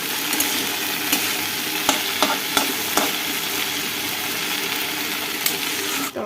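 Chicken curry frying in oil in a pan, a continuous close sizzle with intermittent clicks and scrapes as it is stirred and turned, steady and fairly loud, no speech.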